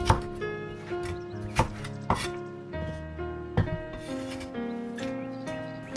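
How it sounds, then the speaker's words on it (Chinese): Kitchen knife chopping fresh ginger into slices and then strips on a board, a series of sharp, irregular near knocks over a bed of music. "将姜切成片，再切成条"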